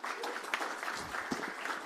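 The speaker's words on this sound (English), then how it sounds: "let's give them a warm round of applause" Conference audience applauding at a users' conference, a steady spread of hand claps held at a moderate, fairly distant level for the whole stretch with no voices over it.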